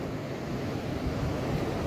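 Sea waves wash along the shore near a seaside temple, a steady broad roar with wind buffeting the microphone, continuous and close, no voices.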